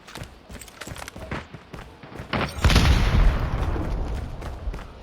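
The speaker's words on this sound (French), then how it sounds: "Alors voilà, grenade là-bas." A grenade bursting in a multiplayer shooter game, a loud booming blast swelling out of rapid gunfire and then rumbling on heavily, close and dense.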